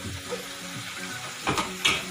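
Fish frying in oil for a fish pickle gives a loud, continuous sizzle with bursts of stirring and sharper crackles near the end, with no voices.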